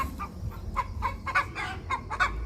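An Australorp hen clucks repeatedly in a pasture garden, a series of close, distinct clucks in an uneven rhythm over low outdoor rumble.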